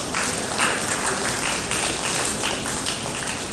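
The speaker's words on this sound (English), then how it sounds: "Big round of applause" An audience at a talk gives a sustained round of applause, a dense even wash of many hands clapping throughout.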